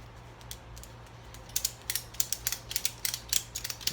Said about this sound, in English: Get that bugger locked on there and start ratcheting it up.